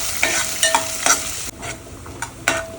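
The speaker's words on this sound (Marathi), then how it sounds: "कढीपत्ता टाकून कांदा टाकते. कांदा चांगला फ्राय करून घ्यायचा आहे" Onion frying with curry leaves in hot oil for a Konkan vangi sukat, with a steady sizzle broken by several sharp scraping stirs of a spoon in the pan, close and alone.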